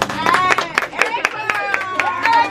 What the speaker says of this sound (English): Everybody get ready to clap.